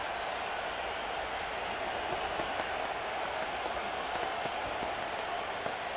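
Simulated stadium crowd from a Madden 25 NFL football game, 49ers against Giants, a steady broad roar and murmur of spectators filling the whole stretch at an even, moderate level.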